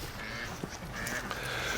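Domestic ducks being bred on a farm, heard outdoors as a dense, continuous bed of overlapping quacks and honking fowl calls with a few sharper calls standing out, no talking.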